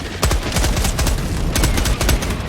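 Rapid video game gunfire in a firefight, loud, close bursts of repeated shots in a fast, uneven rhythm with no talk.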